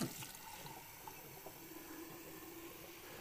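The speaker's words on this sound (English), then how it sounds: "we're going to take a little bit of tap water" Sacramento tap water pouring from a faucet, a faint steady hiss of running water with a brief louder splash at the start and no talk.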